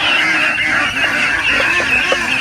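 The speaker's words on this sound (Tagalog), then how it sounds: "yun naman yung mga itik na medyo malaki na" Ducks on a farm, some of them fairly grown, keep up a continuous nasal chorus of calls and honks from a group, with a few louder individual quacks standing out close by.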